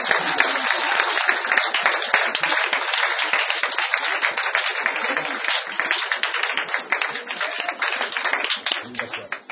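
A church congregation applauds to acclaim Jesus, with sustained, dense clapping from many hands for the whole stretch, loud and close, and voices talking and calling out over it.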